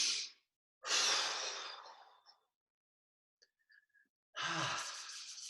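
Slow deep breaths during a qigong class: a long airy inhale, a gentle exhale trailing off, a pause with faint small sounds, then another breath, close and soft.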